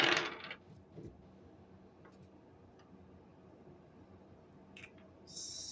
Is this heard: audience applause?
no